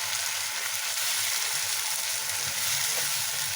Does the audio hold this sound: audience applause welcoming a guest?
no